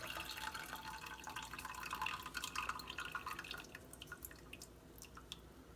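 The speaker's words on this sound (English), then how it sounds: "you just pour your dashi stock and your bonito flakes into the strainer" Dashi stock with bonito flakes poured through a strainer for miso soup, giving a soft, steady trickle and patter of liquid that fades gradually over several seconds, with no talk.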